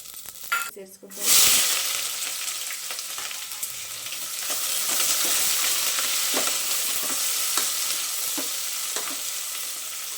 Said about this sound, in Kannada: ಆಯಿಲ್ ಕಾದಿದ್ದೆ, ಚಕ್ಕೆ ಲವಂಗ ಸೇರಿಸ್ಕೊತಾ ಇದ್ದೀನಿ